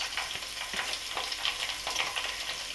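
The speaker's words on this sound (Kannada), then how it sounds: "ಈರುಳ್ಳಿ ಚೆನ್ನಾಗಿ ಫ್ರೈ ಆಗಬೇಕು." Onions frying in a pan for chicken sukka, a steady close crackling sizzle with soft bursts of stirring throughout, no voices.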